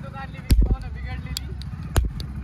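A toy cap gun fires during Diwali festivities, giving two sharp, loud pops about a second and a half apart, with a faint smaller crack in between, all over background chatter and voices nearby.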